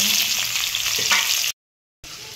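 Chopped onion frying in hot oil gives a loud, steady hissing sizzle that cuts out abruptly for half a second before resuming.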